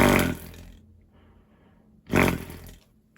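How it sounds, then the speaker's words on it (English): A Dustite respirator's flutter valve makes a buzzy, fart-like flapping on each exhale, two loud bursts about two seconds apart with quieter breathing between. "it does have the side effect of making a funny fart sound every time you exhale"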